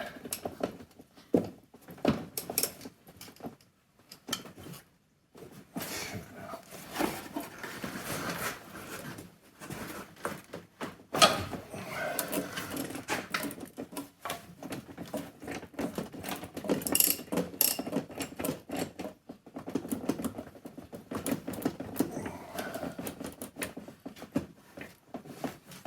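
A ratchet wrench clicks in repeated bursts while a 27 mm fitting on the timing chain tensioner at the back of the head is worked loose on a Mini R56 engine. The bursts are close and irregular, with clanks and pauses between them and no talk.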